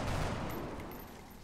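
A soldier fires a gun in XCOM Long War. A short, muffled burst sounds, fairly faint, then fades into a low rumble.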